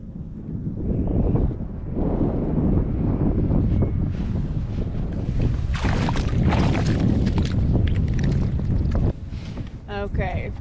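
Wind rushes steadily across open water around a kayak on a fishing trip among scattered lily pads, a loud broadband buffeting on the microphone that runs the whole time, with a brief rattling knock near the end.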